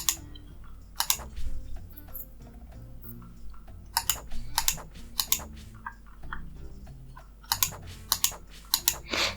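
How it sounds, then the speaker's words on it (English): Computer keyboard typing and mouse clicking while playing the farming game Sun Haven, close and crisp, coming in short irregular bursts of rapid clacks with quiet gaps between them. "Let me know as well if you like the clicking sounds and the keyboard sounds"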